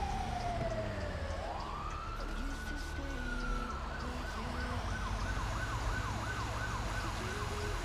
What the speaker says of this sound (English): Oh, that's an ambulance. I thought that was an officer.